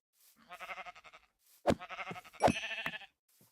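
A game sheep bleats repeatedly, the wavering calls coming in two groups with a brief pause between them, fairly loud and close.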